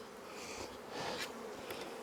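Honeybees buzz and hum as they fly back to their hive after a beekeeper blows them out of a honey super, a steady close swarm drone.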